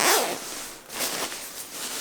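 A zipper on a Klymit KSB 15 mummy sleeping bag is pulled in a few quick close rasping strokes, loud and dry with brief pauses between pulls.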